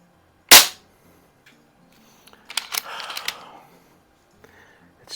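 A single sharp pneumatic crack from an Umarex Zelos air pistol, loud and abrupt near the start, followed by softer mechanical clicks and handling rattles a couple of seconds later.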